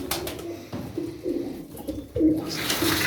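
Pigeons coo in soft, low repeated phrases close by, with a few short pauses and some rustling and background noise from a bird loft.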